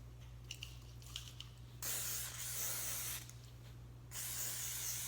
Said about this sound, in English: I'm going to spray them down with the Ballistol CLP.